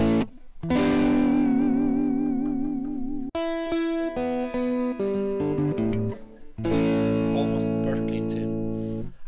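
An upgraded Stratocaster electric guitar with new rolling saddles and tuners plays sustained chords and bent notes with a wavering, effected tone, loud and close with short pauses between phrases.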